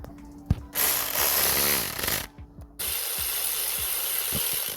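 A ratchet tightens the starter motor bolts on a Mazda 2, with close, rapid pawl clicking in bursts between short pauses and a brief rubbing scrape, no talking.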